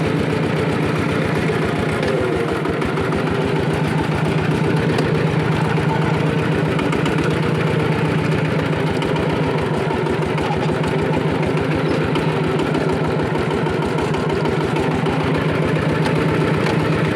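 A walk-behind motor tractor, used for ploughing a garden plot, runs close by with a loud, steady engine chug, its rapid even pulses continuing without a break throughout.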